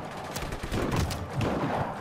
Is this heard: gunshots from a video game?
yes